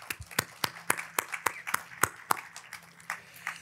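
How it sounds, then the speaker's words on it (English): Scattered applause at an awards ceremony for the ISFD Pinnacle Awards, with a handful of distinct claps ringing out one after another in an uneven rhythm rather than a full ovation, fairly faint with a low hum underneath. "Let's give them a round of applause"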